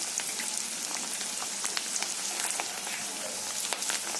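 Bhetki fish koftas frying in a pan of oil, a steady close crackling sizzle with scattered sharp pops throughout, no voices.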